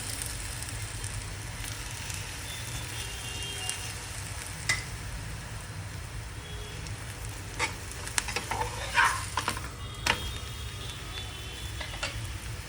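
Jowar-flour thalipeeth flatbread fries in oil in a pan with a continuous soft sizzle and occasional sharper crackles and pops, close and alone without talk.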